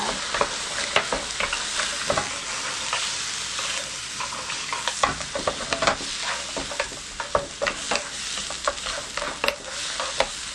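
Seafood stir-fried over high heat in a pan with white wine added, for a tomato seafood spaghetti: a steady, dense sizzle with frequent sharp clicks and scrapes of stirring throughout, no talking.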